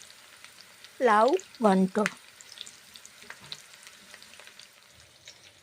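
Small chopped onions fry in a pan while being stirred, for a bottle-gourd lau ghonto; a voice speaks briefly near the start, then a soft, steady sizzle with occasional stirring continues alone.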